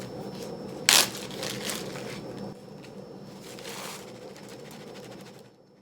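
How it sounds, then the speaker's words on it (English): Plastic baggies are handled while watermelon seeds are put in, making close crinkling and rustling with one sharp crackle near the start, then softer, steady handling noise with no talking. "It's time to put them into the labeled baggies."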